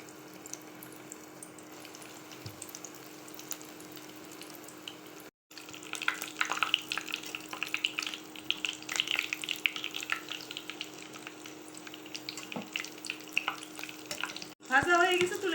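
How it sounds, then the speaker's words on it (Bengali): Breaded chicken bread snacks frying in hot oil, a steady close crackling sizzle with scattered pops that swells after a brief break and continues, ending in a short clatter. "এখন ভেজে নেব।"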